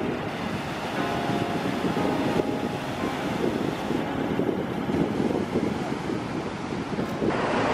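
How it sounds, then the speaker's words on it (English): Big ocean waves roll and break along a shore with surfers out, giving a steady, loud roar with heavy wind buffeting the microphone and no talking. "on that side there are like really big waves"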